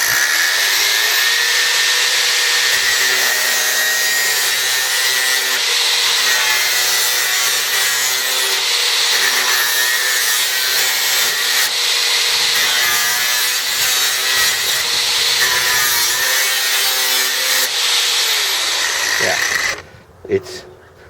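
A Festool AGC 18 cordless angle grinder with a thin cutting disc slicing through metal, a loud, sustained high-pitched whine and grinding hiss that runs steadily for about twenty seconds before cutting off.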